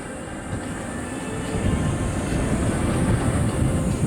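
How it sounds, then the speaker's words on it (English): Jet roller coaster train at a Japanese theme park running steadily along its track, a loud continuous rumbling roar that builds slightly and holds, with no voices. "Now this is obviously a jet coaster, shallow drops, straight track, basic curves"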